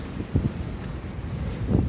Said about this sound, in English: see those trees blowing. A gust going probably about 20 miles an hour